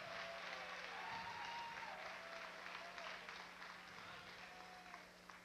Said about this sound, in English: Let's have a round of applause for what these 12 contestants have done tonight